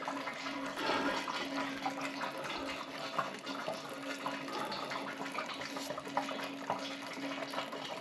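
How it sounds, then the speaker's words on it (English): Radiator fluid draining from an opened valve, a steady close gurgling and trickling flow of liquid that continues without a break. "turn the valve. See how much fluid I get out of here."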